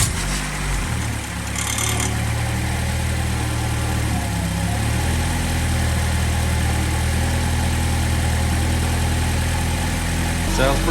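Nissan 200SX SE-R (B14) engine cranks and catches near the start, then settles into a steady, close, rumbling idle that runs throughout with little variation.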